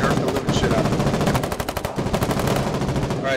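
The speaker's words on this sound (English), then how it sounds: "this here is the Argentini rifle." An Argentini rifle fires in a Foxhole battle, with rapid bursts of gunshots crackling close and loud over heavy mixed gunfire, the shots coming in quick irregular clusters.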